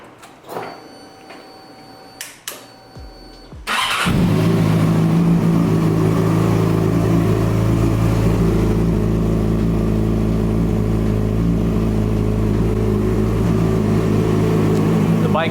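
A cold Yamaha R6 motorcycle engine fires up after a few faint clicks and settles into a steady, loud idle close by, with no revving.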